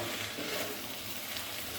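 A small fish and vegetable curry is stirred in a pan over a low flame, giving a faint, continuous sizzle with soft scraping.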